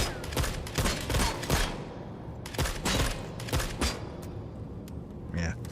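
An RPK machine gun firing in the video game The Forever Winter, several loud rapid bursts with short gaps, ending in quieter mechanical clicks and creaks.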